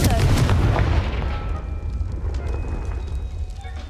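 A Confringo spell blast from the game Hogwarts Legacy erupts as a loud, booming burst at the start, then fades into a rumbling fiery tail, with a voice heard over it.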